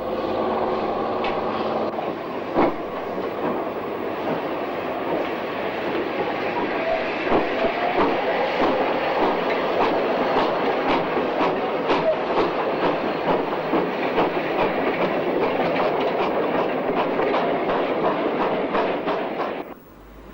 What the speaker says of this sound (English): 6938 Corndean Hall has worked up from Plymouth, where she was allocated at this time, and still has to get to Wolverhampton.